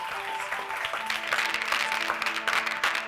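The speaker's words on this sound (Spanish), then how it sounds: "vamos a darles un fortísimo aplauso." An audience at a film festival talk event in San Sebastián applauds to welcome the guests, a continuous mid-level clatter of clapping with faint tonal sounds underneath.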